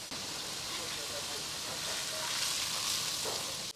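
Flames from a fire at a concrete plant struck by rockets crackle and hiss steadily while rescuers extinguish them, a dense broadband rush with faint background voices.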